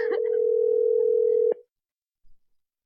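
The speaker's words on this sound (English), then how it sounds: "so I'm trying to get Drizzy Dro on the phone" A steady telephone dial tone hums for about a second and a half while a call is being placed on a radio show, then cuts off abruptly, leaving near silence with a faint click.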